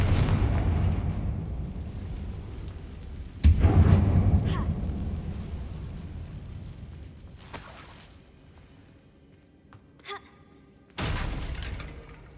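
A Confringo fire spell bursting in Hogwarts Legacy inside a closed mine tomb, with heavy booming blasts that roll out and decay, one big hit early on and another near the end, over low rumbling ambience.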